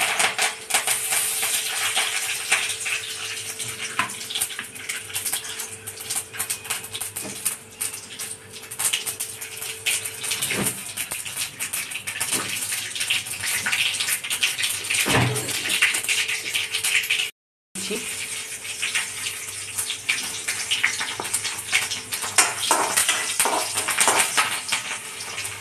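Mustard seeds and curry leaves sizzling in a teaspoon of hot oil in a kadhai, a steady broadband hiss with faint crackles and pops running throughout, plus an occasional clink of a utensil.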